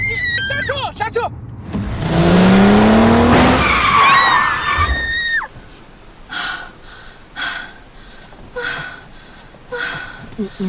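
A car brakes hard and skids, a long rising tyre screech that swells loudly and then cuts off, while people shout and gasp in alarm before and after.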